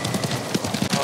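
Horse hooves in the video game Ghost of Tsushima, a rapid rhythmic clatter of gallop beats at a steady, close and fairly loud level, with no talking.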